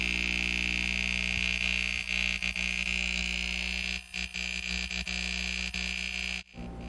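A VIVOSUN 950 GPH air pump runs loud and steady, its constant mechanical hum and buzz filling the space with a few brief dips and interruptions.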